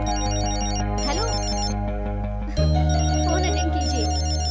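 A telephone ringtone plays a repeating electronic melody, loud and close, shifting to a different tone partway through.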